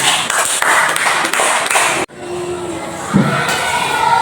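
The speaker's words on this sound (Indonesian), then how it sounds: "Oke, berikan tepuk tangan." Fifth-grade pupils in a classroom applaud a group presentation with a brief burst of scattered clapping. It cuts off sharply, then gives way to noisy room chatter and children's voices.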